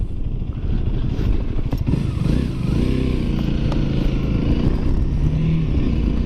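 A Honda Rebel 300 motorcycle rides at about 25 to 30 mph in high wind, its steady engine drone mixed with heavy, continuous wind buffeting close to the microphone.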